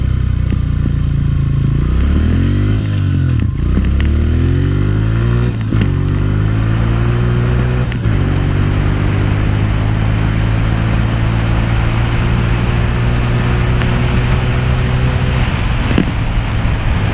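A Honda CRF125F farm motorcycle accelerates hard through its short gears, engine note climbing and dropping with each shift, then holding a loud steady drone at top speed with heavy wind buffeting the rider's microphone.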